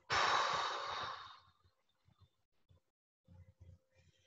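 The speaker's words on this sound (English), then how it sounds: "as we breathe out, we lift up" A single deep, forceful exhale during a guided exercise session for the ankles and feet, loud and close for about a second and a half, then fading into near silence with faint soft movement.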